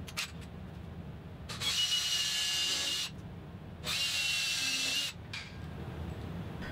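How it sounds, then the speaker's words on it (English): A power drill with a 1/8-inch bit drilling a through hole for an exterior door lock whines in two sustained bursts of a couple of seconds each, separated by quiet pauses, loud and close. "drill a through hole using an 1/8-inch drill bit."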